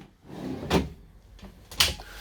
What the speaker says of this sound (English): we have sliding drawers that are also soft close